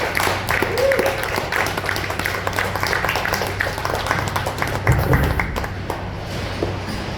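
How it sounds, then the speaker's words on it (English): Audience clapping and applause at the close of a stand-up comedy set, a steady wash of many hands with a few louder claps and a voice briefly heard within the crowd. "give me a round of applause"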